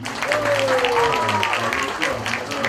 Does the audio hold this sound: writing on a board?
no